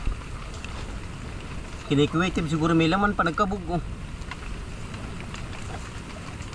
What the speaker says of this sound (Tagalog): Hangin, sobrang lakas.